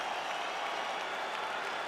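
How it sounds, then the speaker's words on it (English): A UFC 5 arena crowd at the end of a five-round fight, cheering and applauding in a steady, dense roar that stays loud and even throughout. "Stand and cheer, ladies and gentlemen."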